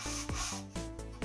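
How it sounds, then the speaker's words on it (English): A brush scrubs soapy teak wood under firm pressure, giving quick, close rasping strokes in a steady back-and-forth rhythm, about four passes in a brief burst. "when you're starting to brush, apply some pressure and then it's just to start brushing."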